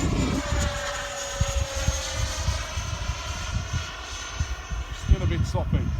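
Freewing L39 radio-controlled model jet flying on a bitterly cold, windy day, its steady whine sweeping past under heavy wind buffeting and bursts of people talking nearby.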